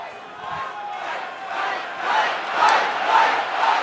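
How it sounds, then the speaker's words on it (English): A crowd at the 2024 Republican National Convention chants a rhythmic two-beat cry over and over, the massed voices rising steadily louder across a large hall. "Donald Trump greeting a crowd, and they're chanting "Fight, fight,""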